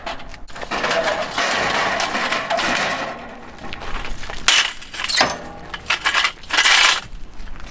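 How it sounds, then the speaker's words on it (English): Pull-out ramp sliding from a welded bumper extension at the rear of a four-window short school bus, giving scraping, clattering metal mechanism sounds in several bursts, fairly loud and close, with no talk. "We've got a ramp that pulls out right here."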